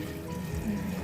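Water pours steadily into a pot of Pakistani aloo gosht curry with its spices, a continuous close splashing fill.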